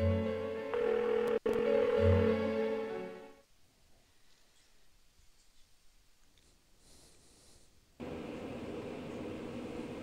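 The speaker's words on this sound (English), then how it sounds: "Why won't she pick up the phone?" A phone ringing unanswered in the video game Persona 4, a tonal ringing pattern heard loudly first, then a quiet gap with faint sounds, then a lower steady tone returning near the end.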